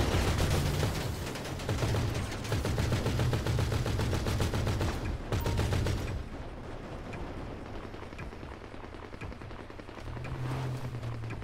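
Dense gunfire in the GTA V Online video game crackles in rapid, overlapping bursts almost without pause, with heavy, booming shots mixed in throughout.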